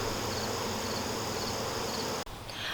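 Angry honeybees swarming around an opened hive during an inspection: a loud, dense, continuous buzz close by that fills the whole clip, briefly dipping near the end before resuming.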